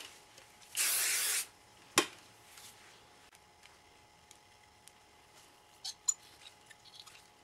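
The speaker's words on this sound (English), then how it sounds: "I went ahead and sprayed all of it with hairspray." Hairspray is sprayed onto sectioned hair in one steady, close hissing burst lasting about half a second. It is followed by a few faint clicks and quiet handling sounds in an otherwise still room.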